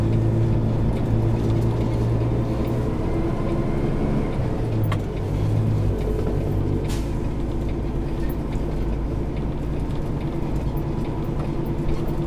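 A semi truck with a trailer pulls out and swings into a wide turn at a drop yard, its diesel engine droning low and steady with a brief hiss like an air brake midway.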